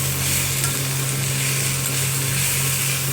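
Potatoes and onions frying in a pan, a dense, steady sizzle at close range, with a constant low hum underneath and no voices.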